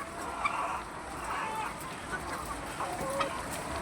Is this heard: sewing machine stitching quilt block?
no